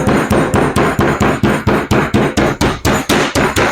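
Meat mallet pounding beef for fajitas, a steady run of about fourteen loud, close thuds spaced evenly, each a sharp knock with a brief ring.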